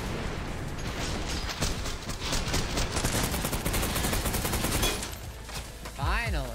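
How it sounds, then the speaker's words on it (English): Dense, rapid gunfire rattles through a fast combat scene in the shooter video game Trepang2, with continuous loud bursts of shots and mechanical clatter ending in a brief swooping effect. "Shoot him in the butt."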